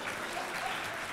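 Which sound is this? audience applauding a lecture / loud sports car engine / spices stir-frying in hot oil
audience applauding a lecture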